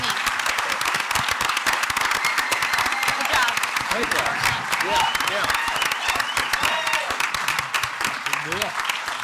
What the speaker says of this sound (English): could you please join me in giving them another round of applause?